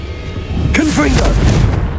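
A Confringo blasting spell in Hogwarts Legacy goes off with a loud, deep boom and a rumbling tail, with a shouted voice over it.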